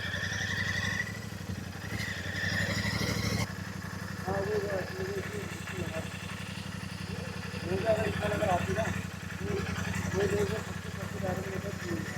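A motorcycle engine idles steadily in a temple parking area at Mukteshwar Dham, a low continuous rumble running throughout while people talk nearby over it.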